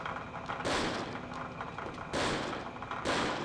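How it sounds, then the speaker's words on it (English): Three heavy gunshots boom out in a video game, each a loud, close blast with a rumbling tail, spaced about a second apart. "All I gotta do is shoot at the guy"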